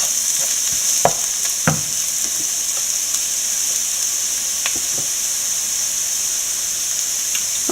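Crushed chili and chili powder sizzle as they fry with elephant foot yam in a pan, a steady close hiss with a few soft clicks and scrapes of stirring, no voices.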